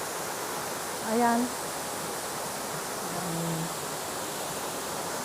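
Wong Tai Sin waterfall pours in a constant, even rush of falling water, with a voice briefly speaking over the roar.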